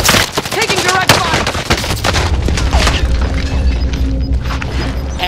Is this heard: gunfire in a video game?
yes